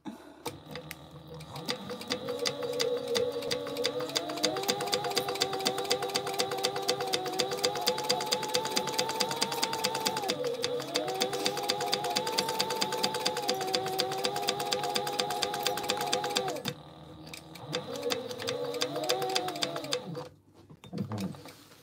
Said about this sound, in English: I'm just gonna sew it closed in the center of it.